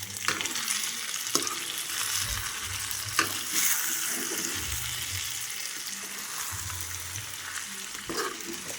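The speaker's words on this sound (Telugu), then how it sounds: "ఇక్కడ జస్ట్ ఏంటంటే అడుగు అంటకుండా జస్ట్ కదుపుతున్నాం అనమాట" Spicy village-style chicken kurma sizzles steadily in a pan while a spoon stirs and scrapes the bottom, with occasional sharper knocks against the pan over a constant frying hiss.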